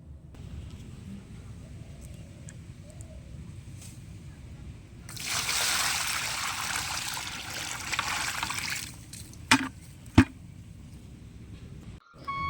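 Water from a bucket is pushed into a pit outdoors in a rural yard, giving a splashing gush lasting a few seconds, followed by a couple of brief knocks, at moderate loudness.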